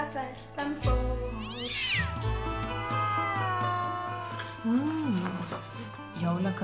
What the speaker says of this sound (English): when you hear him meowing outside